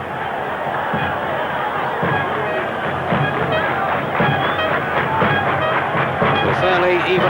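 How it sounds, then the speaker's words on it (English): A football stadium crowd at a Peru versus Bolivia World Cup qualifier roars continuously, a dense loud wash of chanting and cheering with faint commentary mixed underneath. "Crowd making plenty of noise, hoping to encourage their side."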